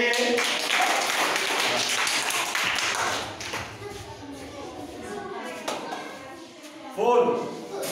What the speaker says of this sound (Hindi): Very good Tali बजाइए।